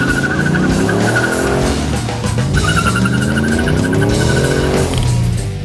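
A 1950s street-rod beater car fires up and drives, its engine droning loud and close with rising and falling revs and a tire squeal partway through, no voices.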